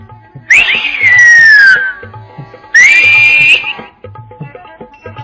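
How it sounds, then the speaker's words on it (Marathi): Two long, loud whistle blasts on a trek at Torna Fort, each gliding in pitch, separated by a short gap, over faint background noise. "शिट्टी मारली गेली"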